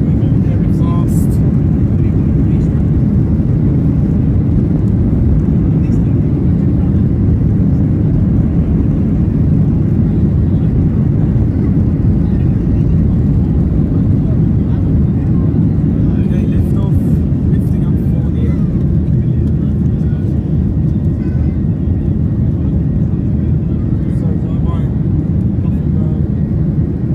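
Ryanair Boeing 737-800 (737-8AS with winglets) speeding down the runway on its takeoff roll at Gothenburg Landvetter, heard from inside the cabin as a loud, steady engine roar and rumble throughout, with a speaking voice over it.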